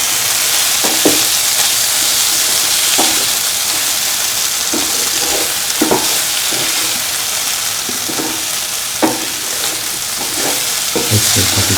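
Cottage cheese and red spinach stew being stirred in a pan, with a steady sizzle and frying hiss throughout and soft scraping strokes of the spoon recurring every second or so.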